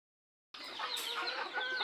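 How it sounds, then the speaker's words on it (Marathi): A flock of hens clucks busily as they gather around chopped leftover vegetable scraps being fed to them, the birds' calls close and continuous and overlapping in a steady chorus after a short silence. "हे बघा कशा कोंबड्या गोळ्या झालेल्या आहेत आवाज दिल्यावर"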